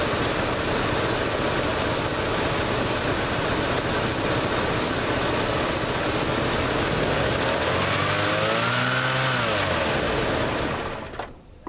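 1987 Plymouth Gran Fury with a carburetor fuel-system fault, its engine held at a loud, steady high rev for a long stretch, then surging and falling back before cutting off at the end, close up with no talking.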